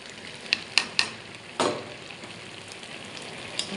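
Taro-leaf ghonto frying in a pan as black cumin and roasted sesame powder go in, giving a few sharp crackles and pops followed by a burst of hissing sizzle that fades to a soft, steady fry.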